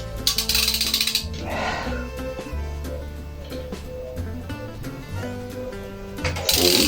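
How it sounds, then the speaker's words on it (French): Motorcycle exhaust header bolts on a Kawasaki GPZ are loosened with a ratchet, giving close clicking and grinding mechanical sounds in uneven bursts, with metallic clinks at start and end. "je me demande si je vais pas tenter de desserrer directement au niveau des collecteurs."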